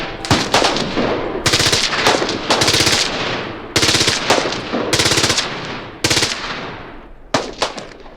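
Bursts of automatic and rapid gunfire from hackers shooting guns as a hobby at a desert range near Las Vegas, loud and close, several volleys with short pauses between.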